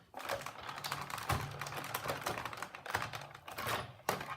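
A die cutting machine feeds card stock through with a top standard cutting pad, giving a dense run of close, rapid clicking and rattling pressure noise that carries on almost without pause, with a sharp knock near the end.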